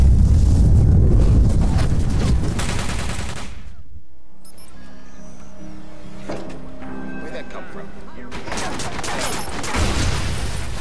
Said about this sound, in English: a different form of using the environment to cause explosions, take out more than one enemy at a time